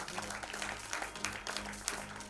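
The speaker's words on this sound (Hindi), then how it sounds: "ladies and gentlemen, जोरदार तालियां हो जाए प्लीज" A crowd at a film trailer launch applauds director Vivek Agnihotri as he returns to the stage, a dense, continuous wash of clapping held at an even level throughout.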